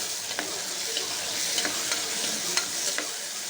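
Tomatoes stirred in a hot pan with a steady sizzle and spaced scraping strokes of the spoon, close by with no one talking.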